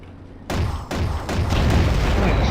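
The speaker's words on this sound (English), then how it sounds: "Yeah, those are some explosions." Explosions in the underwater game AquaNox, several loud booming thumps in quick succession that blend into a dense, sustained roar.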